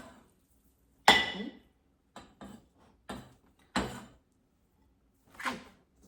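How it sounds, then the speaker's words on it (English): Sliced pork for a pork and green onion dish tipped into a bowl, giving a few separate clinks and clattery thuds of dish and utensil with short quiet gaps between them, close and with no talking. "So I'm going to add those in a bowl."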